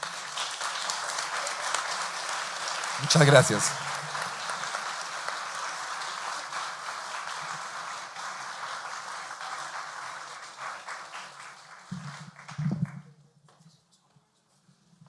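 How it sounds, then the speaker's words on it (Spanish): Steady audience applause from a gathering at a public ceremony, a moderate continuous patter of many hands that slowly thins out, with a brief spoken thanks and some shuffling near the end. "Nos damos un fuerte aplauso a todos los que están aquí."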